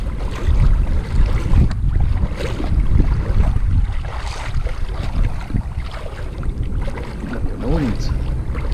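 Strong, steady wind buffets the microphone beside mangrove shallows while fishing from the bank, a continuous broadband roar with surging gusts and lapping water filling the whole stretch.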